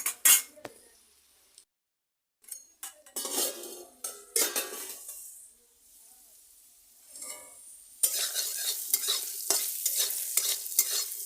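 Cut potatoes frying in a pan for batata poha, with a spatula stirring and scraping in bursts, gaps of near silence between, then a loud continuous sizzle in the final stretch.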